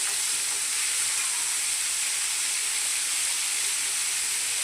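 Vegetables for shukto, a Bengali mixed-vegetable dish, sizzle steadily in hot oil in a pan while being stirred, a continuous bright frying hiss with no voices.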